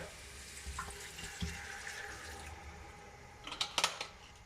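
White wine poured from two small bottles into a cooking pot for poulet basquaise, a faint soft trickle and gurgle of liquid with a few close clinks near the end.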